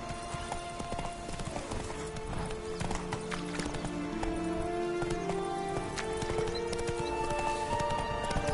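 Roach, a horse in The Witcher 3 video game, trots along in a steady clip-clop of hooves, joined by a brief whinny and overlaid by game ambience and music, with no talk.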